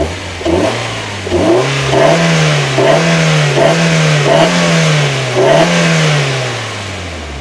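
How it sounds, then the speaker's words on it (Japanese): A Nissan S15 Silvia's naturally aspirated, cam-tuned SR20DE engine with a stock rear muffler, revved in about seven quick, light throttle blips from idle, loud and close, with no talk. "ちょっとアクセルパンパン開けるけどさ"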